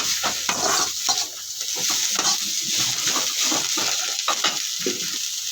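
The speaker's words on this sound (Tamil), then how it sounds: "கட் பண்ணி வச்ச ரெண்டு பெரிய வெங்காயம் அதையுமே சேர்த்து இதோட நல்லா வதக்கலாம்" Two large chopped onions sautéing in a pan for mint-coriander biryani, a steady sizzle broken by rapid spatula scrapes and stirring clatter, close and lively, with no voices.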